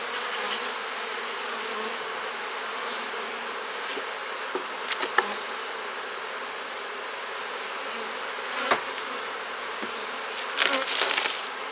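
Honey bees buzzing around an opened hive after smoke, a continuous close swarm drone with a few sharper knocks and handling sounds mixed in.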